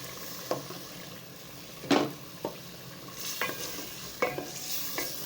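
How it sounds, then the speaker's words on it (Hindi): Potatoes and peas cooking in a pan as tamarind water goes in, giving a soft steady sizzle broken by several sharp scraping stirs and clinks at irregular intervals, close and alone without any talk. "अब मैं साथ डालने जा रही हूँ इमली का पानी।"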